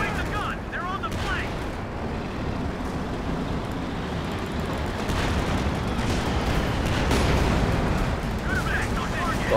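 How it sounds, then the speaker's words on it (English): Artillery barrages pound away in a Company of Heroes 2 battle, a dense, continuous rumble of booms and gunfire that grows louder toward the end, with someone talking over it. "I got cover on my top from my own artillery"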